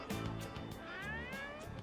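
Stray cat meowing in the video game Persona 3 Reload, a pair of short, close, tonal meows with a rising-falling pitch, fairly faint and clear over quiet background.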